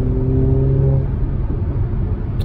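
A Mercedes-AMG C43 engine revs loudly and steadily with a deep, throaty growl, its pitch lines holding then breaking into a rougher rumble close by.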